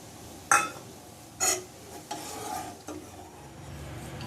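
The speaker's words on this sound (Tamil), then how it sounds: "இப்போ இதுக்கு தேவையான ஏலக்காய் பொடி போட்டுடலாம்." Cardamom powder is stirred into makhana kheer with a few distinct clinks of a spoon against the pot, set against a soft, low simmer.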